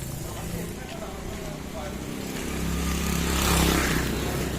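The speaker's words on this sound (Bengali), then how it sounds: "কি শব্দ বাইকটার" A motorcycle engine rumbles and revs on an empty late-night market street, a steady low drone that swells louder past the midpoint, with faint voices in the background.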